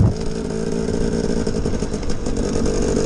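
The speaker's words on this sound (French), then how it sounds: "je débraye, je lève le levier et je lâche l'embrayage et je accélère" A motorcycle engine revs up steadily after shifting into second gear, with a buzzy, continuous drone at close range and fairly high volume, holding a constant pitch throughout with no talking.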